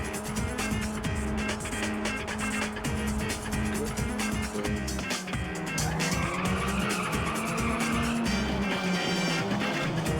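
A race car drifts through a corner in the arcade racing game Ridge Racer Type 4, with a continuous engine drone and sustained tire squeal sliding in pitch, loud and unbroken for about ten seconds over game music.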